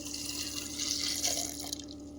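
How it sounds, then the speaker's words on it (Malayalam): Water being poured into palak (spinach) curry in a pot, a steady splashing trickle with faint dripping over a low constant hum. "ഇനി ഇതിലേക്ക് നമ്മൾ വെള്ളമാണ് ആഡ് ചെയ്യാൻ പോകുന്നത്. വെള്ളം കൂടെ ഒഴിച്ച്"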